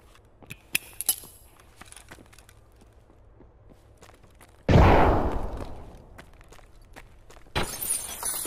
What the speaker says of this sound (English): That's a shotgun he's using.